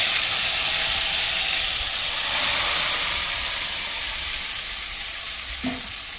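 Hilsa fish pieces dropped into hot oil with fried garlic in a pan, giving a loud, steady hissing sizzle that fades slightly over several seconds, with one small bump near the end and no talk.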